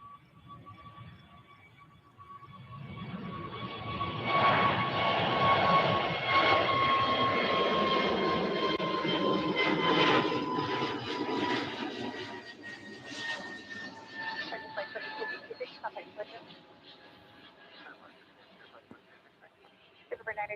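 Light aircraft taking off at Cleveland Hopkins airport, its engine swelling from a distant hum to a loud roar and then slowly fading as it climbs away, with a tonal whine throughout and someone talking over it.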